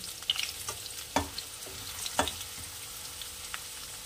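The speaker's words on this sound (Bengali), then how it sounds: "আলুগুলো লাল করে ভাজা হয়ে গেছে" Potatoes fry in oil until browned with a steady sizzle, punctuated by several scraping knocks from a spatula turning them in the pan.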